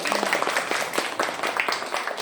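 Classmates clap for a pupil during a lesson on pantun verses. The claps are scattered and uneven, a moderately loud patter of individual hands that lasts about two seconds.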